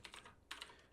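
Typing on a computer keyboard at a desk, a few quick clusters of light key clicks close by, with a short pause in the middle, no voices.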